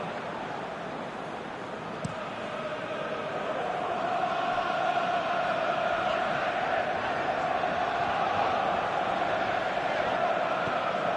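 Stadium crowd in a PS4 football video game swells into a sustained roar of cheering, a dense, steady wash of many voices that grows louder and holds.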